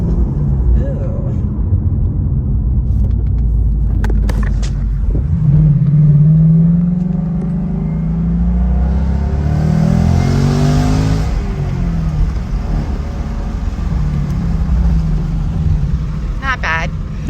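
A manual-transmission sports car, a Camaro SS or Shelby Mustang, accelerates hard on a road through a corner, engine rising in pitch through revs, loud and close, with a voice speaking over it at times.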